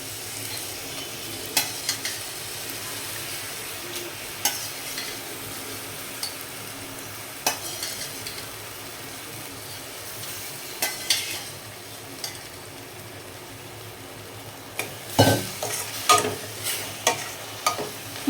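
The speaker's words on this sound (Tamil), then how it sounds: "மட்டன் போட்டு நல்லா கிளறி விட்டுக்கோங்க" Boiled mutton is stirred into tomato masala in a pan, with a soft, steady sizzle under scattered spoon scrapes and clinks that grow busier toward the end.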